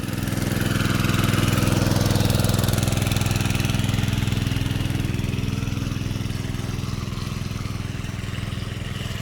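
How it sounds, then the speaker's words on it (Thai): A water pump engine set up outdoors runs with a steady, loud, low mechanical drone and an even rhythmic chug. It continues without break and no one talks over it. "ได้เอาเครื่องสูบน้ำมาตั้งแล้วครับ"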